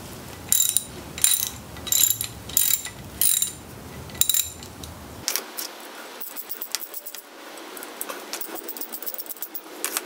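A ratchet clicks in short, rhythmic bursts as a Ford Ranger 2.3L engine head is worked on, followed by looser metallic clinks and rattles of parts being handled while the camshaft is removed, close and clear.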